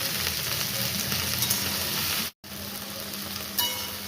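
Potatoes and okra frying together in a kadai give a steady, even sizzle of hot oil, with one brief dropout midway and a faint stirring scrape near the end.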